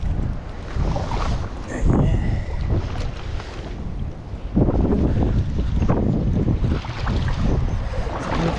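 Strong wind blows over open water from a boat near the shore, a loud continuous rush with heavy buffeting gusts against the microphone and faint water splashing beneath.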